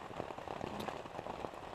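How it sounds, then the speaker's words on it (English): Rain falling steadily at a wilderness canoe campsite, a soft dense patter of drops on surfaces, faint and continuous with no voices. "if we're gonna sit in the rain"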